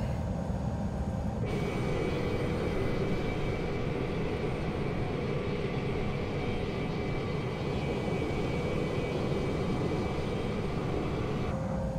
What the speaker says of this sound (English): Looks like engine 2 is starting to spool.